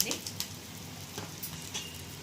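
Dried red chillies, urad dal and asafoetida fry in hot oil as a tempering for cucumber chutney, a steady close sizzle with soft crackles and a few sharper pops throughout, without talk.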